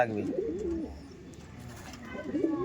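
Kalanka pigeons coo in soft, rolling phrases at the start and again near the end, close by, with a low background murmur.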